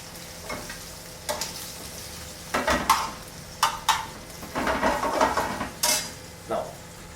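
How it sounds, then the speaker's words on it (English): Intermittent clatter and scraping of a utensil stirring food in a pan while cooking carbonara in Rome, with bursts of sizzling frying between strokes. "See now that when Charlie starts frying with his pan."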